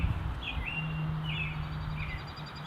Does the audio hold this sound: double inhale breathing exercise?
no